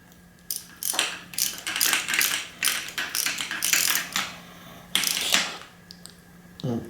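A wrench works a screw on a Suntour XCC suspension fork during a service, giving a quick series of close, sharp ratcheting clicks in short irregular bursts with brief pauses between them.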